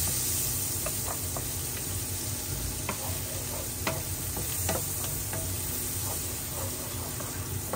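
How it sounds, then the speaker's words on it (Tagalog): Garlic sautés in a hot pan with a steady, close sizzle and occasional scrapes of stirring, with no talking. "pinaka-importante lagi sa paggisa, yung ating bawang"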